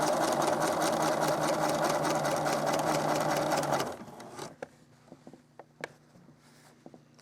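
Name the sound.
sewing machine stitching faux fur appliqué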